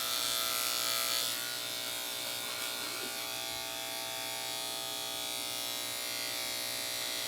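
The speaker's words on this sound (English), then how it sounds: "Let's just trim some of that off." Electric hair clippers trimming hair for a fade, a steady close buzzing hum that runs continuously with slight changes as the blades move through hair.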